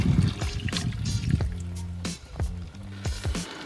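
Beef broth pours into a pot roast with wet gurgling, squishing and dripping sounds close up, a soft liquid splash that trails off into dribbles.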